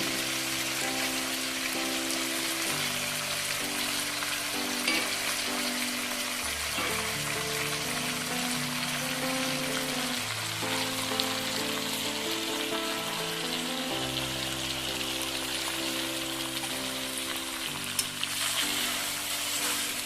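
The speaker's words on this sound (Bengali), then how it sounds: "ভাজা চিংড়ি মাছগুলো আমরা একে করে মশলার মধ্যে দেবো।" Fried prawns tipped into a pan of ground red chilli spice paste for a Bengali chingri malai curry, giving a steady, even sizzle throughout, moderately quiet, with no voices.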